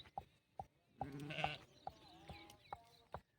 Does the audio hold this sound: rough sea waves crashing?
no